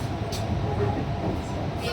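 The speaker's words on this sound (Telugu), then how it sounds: "మెట్రో స్టేషన్ మెట్రో వచ్చింది ఫ్రెండ్స్. ఎక్కాము." Low, constant rumble of a metro train in motion, with muffled voices inside the carriage.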